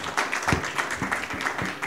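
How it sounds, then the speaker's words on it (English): A panel audience at a medical cannabis discussion claps in a steady patter of overlapping hand claps, moderately close, lasting just under two seconds with no voices over it. "Let's give them another round of applause."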